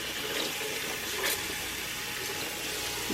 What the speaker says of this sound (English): I'm going to go ahead and turn my water on. And just let the water run over the sponges